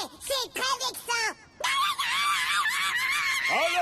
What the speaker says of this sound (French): un petit imbécile de postérieur qui pousse des hurlements de fillettes